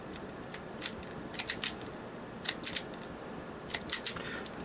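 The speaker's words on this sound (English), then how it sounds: "You can pick up one of these cool wire strippers." Wire strippers snip through wire while a DIY dual LiPo battery adapter is being built, giving sharp, close clicks and crunches in irregular pairs and clusters over a low background hiss.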